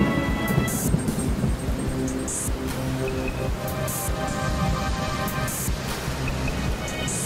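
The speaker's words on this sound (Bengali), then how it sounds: "আর তখনই জোরে বৃষ্টি আর তুফান চলে এলো।" Heavy cartoon rainstorm, a loud, dense, continuous roar of pouring rain with rumbling thunder underneath, unbroken and close throughout with no voices.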